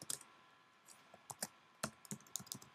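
A computer keyboard is typed on in short bursts as a password is entered, giving close, quiet, irregular key clicks over a few seconds, with no voices.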